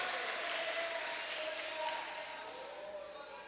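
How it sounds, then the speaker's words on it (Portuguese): A church congregation applauds, a steady wash of clapping that fades slightly toward the end while a preacher speaks over it. "Vamos dar uma linda salva de palmas para Jesus nessa noite."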